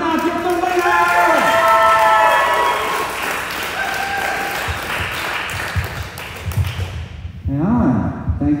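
Crowd applauding and cheering for a winner at a truck giveaway award ceremony, a steady wash of clapping with some scattered shouts, loud and sustained, while a host talks over it through a PA system.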